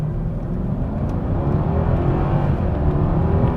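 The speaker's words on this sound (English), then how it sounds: "We'll do a 0 to 60 run here" A Mercedes E550 BiTurbo V8 4Matic accelerates from 0 to 60 in eco mode, a steady, loud engine drone with rising road and tyre noise heard from inside the cabin, no voices.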